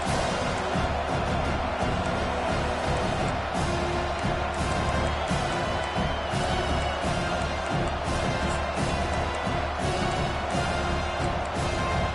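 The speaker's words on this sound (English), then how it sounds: "Here comes this home crowd as the defense tries to get off the field on 3rd down." Home crowd at a football game on third down: a dense, steady roar of cheering that fills the whole stretch without letting up.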